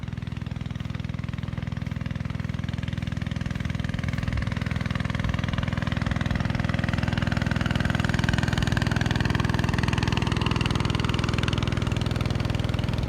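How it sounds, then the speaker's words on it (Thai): A water pump engine drones continuously at close range, pumping water from a fish pond into a rice field, a low rumbling motor running without pause and no voices. "เห็นมีเครื่องสูบน้ำด้วย แล้วก็เสียงดังขึ้นมา"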